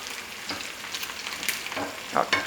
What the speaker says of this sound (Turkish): Şöyle Efendim deli deli bir kızarıyor.